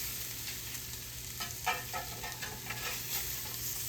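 Fish sizzles on a grill in a continuous soft hiss, with a quick run of scraping, clattering touches from the spatula as the fillet is turned over mid-way.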